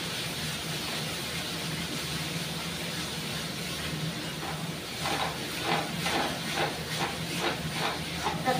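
Mango simmering in a pot of fish curry gives off a steady, close hiss of steam with some bubbling, growing slightly more uneven toward the end.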